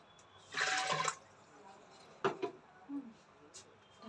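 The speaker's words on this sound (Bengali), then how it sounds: "একটু জল দিই।" Water is poured from a container into a pressure cooker for cooking rice: a short splashing pour, then a few scattered drips and small clinks, close and quiet, with a voice speaking softly nearby.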